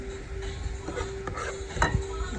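Fried fish and food being placed onto a plate, soft clinks and scrapes of utensils against dishware at close range, a few scattered taps with a brighter clink near the end.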